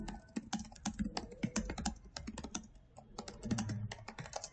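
Rapid typing on a computer keyboard while captions are entered, crisp uneven key clicks in quick bursts with brief pauses, close and fairly quiet with no voices.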